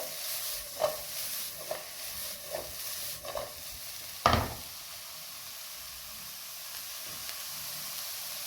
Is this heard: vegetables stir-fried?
yes